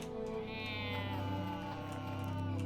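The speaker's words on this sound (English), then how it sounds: "all I hear are dogs and cats. Barking and screeching" A cat yowls in a video game, one long, drawn-out meow with a steady hum beneath it, no voices.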